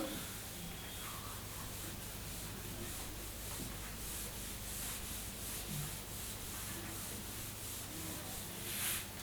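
A teacher rubs out writing on a board during a fourth-grade English lesson, making a steady, continuous scrubbing and rubbing sound that lasts throughout with no talking.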